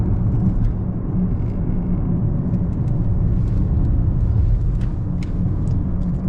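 A Toyota Corolla 1.8 Hybrid with 140 hp accelerates hard to about 100 km/h, heard from inside as a steady, loud low rumble of engine and road noise with no talk.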